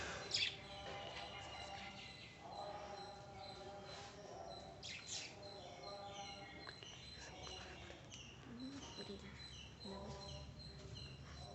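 Small lovebirds chirp and squawk in an aviary with nesting pots, a busy, fairly faint scatter of overlapping tweets and calls, with occasional louder bursts, going on throughout.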